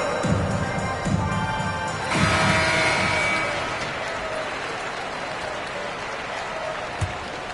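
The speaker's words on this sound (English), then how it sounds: "Come on and get loud right now, fans. It's time to cheer on your Clippers Spirit." Arena crowd noise in the NBA 2K basketball video game during a Clippers home game, a loud roar with clapping and cheering that starts strong, then settles into a sustained, softer crowd murmur.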